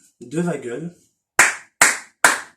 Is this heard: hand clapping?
yes